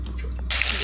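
Cooking oil poured into a pan for a liver curry, a soft drip and trickle followed by a sudden loud, bright hiss that rises halfway and holds to the end.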